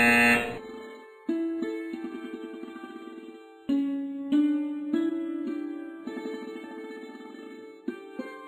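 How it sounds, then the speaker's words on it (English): An RFID document-verification buzzer on a file conveyor sounds in repeated tonal bursts, several sustained electronic beeps that restart in steps, loud and alone without talk. "the buzzer is sounded"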